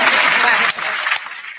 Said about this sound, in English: I'm gonna clap for that.